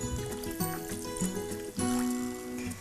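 Water pours onto sugar for lemon syrup in a short, close trickling splash that rises and steadies before tailing off.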